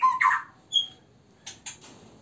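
A captive-bred white-rumped shama gives a few short, sharp whistled and chirping notes separated by pauses, close by in a quiet setting.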